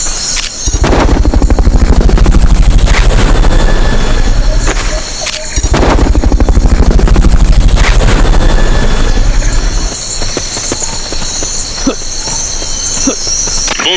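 Helicopter rotor drone from the Metal Gear Solid: Peace Walker PSP game, loud and continuous with rhythmic chopping pulses, mixed with gunfire-like bursts and game effects; the thumping fades out near the end.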